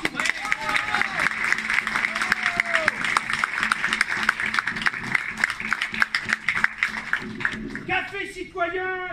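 An audience at the inauguration of a Café Citoyen in Auger-Saint-Vincent bursts into sustained, loud applause with dense clapping and crowd noise, while a voice carries on over the cheering; the clapping thins out at the end.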